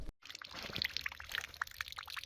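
Rainwater spilling and trickling over the brim of a filled water trailer, soft uneven pouring with small splashes and drips, faint and close.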